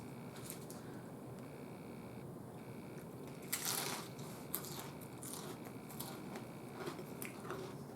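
Crispy chicharrones dipped in guacamole are bitten and chewed close up, giving several sharp crunches over a low background hiss, with no talking.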